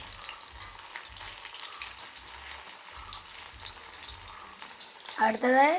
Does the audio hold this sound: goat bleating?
no